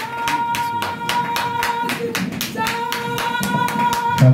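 Steady rhythmic clapping from a church congregation during a worship service, loud and continuous, with a sustained keyboard or organ tone and singing voices underneath.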